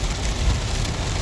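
Rain drums steadily on a Skoda Kushaq during a long highway drive, a dense, loud, even hiss of droplets mixed with the low rumble of the car on the road.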